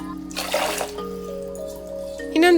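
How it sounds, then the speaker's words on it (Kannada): Water is poured over rice being washed in a vessel for soft idli batter: a brief splashy burst, then a quieter running trickle with a splash at the end. "ಅಕ್ಕಿಯನ್ನು ನಾಲ್ಕು ಬಾರಿ ನೀರು ಹಾಕಿ ಚೆನ್ನಾಗಿ ತೊಳ್ಕೊಳ್ಬೇಕಾಗತ್ತೆ"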